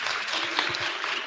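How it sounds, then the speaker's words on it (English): A short burst of steady clapping from a group, dense and fairly close, with no pauses. "Should we give her a round of applause?"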